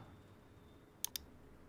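Computer mouse on a Windows 11 machine gives two quick, crisp clicks close together, close and clear against a quiet room hum.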